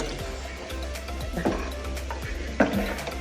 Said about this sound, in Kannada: ಕಡ್ಯಾಡ್ರಿ ಚೆನ್ನಾಗಿ ನೀರು ಹಾಕ್ದಾಗ.